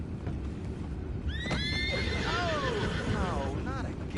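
Horses in the Red Dead Redemption II video game whinny several times in rising and falling calls over steady game ambience, with someone talking over them.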